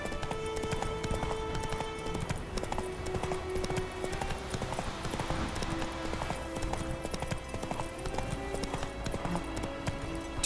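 A horse from The Witcher 3 video game gallops with rapid, continuous hoofbeat clopping under a layer of game music, moderately faint and without talk.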